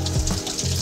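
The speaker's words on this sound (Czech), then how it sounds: "voda teče" Water runs from a tap in a steady, close hiss and splash that continues without a break for the whole short moment.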